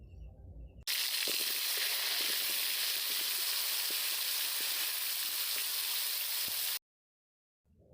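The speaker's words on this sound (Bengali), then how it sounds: "তেল গরম হলে মেখে রাখা আলুগুলো ভেজে নেব ভালো করে।" Seasoned potatoes fry in hot mustard oil in a pan, a loud, dense sizzle that bursts in abruptly, holds steady for about six seconds with faint stirring clicks, then cuts off.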